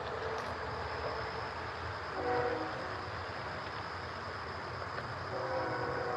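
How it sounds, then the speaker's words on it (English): A CPKC freight train rumbles past at a distance as a steady, continuous roar, with a brief swell partway through and faint horn-like tones threaded into the noise. "It's a CPKC train about ready to cross down there."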